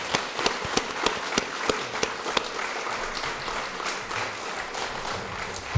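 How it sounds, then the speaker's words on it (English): After a school board candidate forum, a small audience applauds: a few distinct, fairly loud claps at first, then a thinner, softer patter of clapping that fades over the remaining seconds. "Please join me in a round of applause to thank the candidates for participating tonight."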